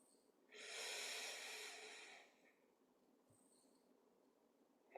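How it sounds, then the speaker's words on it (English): A slow, deliberate breath during a guided meditation, a soft airy rush lasting under two seconds, close and quiet, followed by near silence. "a full, slow, conscious breath in"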